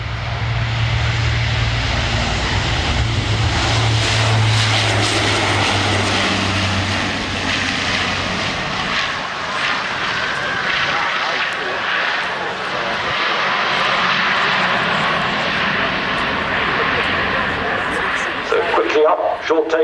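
A Lockheed C-130J Hercules, the RAF transport version, begins its takeoff run at the Farnborough airshow, a loud, sustained propeller-engine roar that slowly fades with distance while an announcer talks over it.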